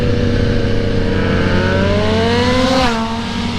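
A Suzuki GSX-R sport motorcycle engine whines loudly as it revs and climbs in pitch, then drops sharply as the bike passes close by and pulls away, on the Tail of the Dragon road in Tennessee.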